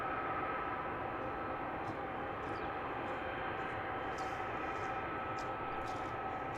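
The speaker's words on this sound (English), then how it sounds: "737 MAX 8 off to Barcelona." A Ryanair Boeing 737 MAX 8 departs Luton Airport, heard as a steady, broad jet engine roar held at a constant distance, with faint higher clicks and knocks above it and no talking.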